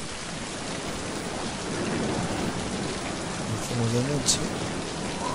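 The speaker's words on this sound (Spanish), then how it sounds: "sigue lloviendo" Steady rain falls throughout in the video game Mind Path to Thalamus, a dense broadband hiss of drops, with someone speaking briefly in Spanish over it near the middle.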